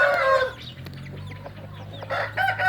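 Chickens cluck and squawk close by, including a small gamecock of about two kilograms, with a sharp crow-like call at the start and scattered clucks over a low background hum.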